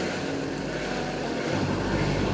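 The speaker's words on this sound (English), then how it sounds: "We're just having a very lazy motor sail up the northeast coast of Buru." A sailing yacht motor-sails up the northeast coast of Buru, Indonesia, with the jib rolled out; a steady engine drone blends with wind buffeting and water rushing past the hull throughout.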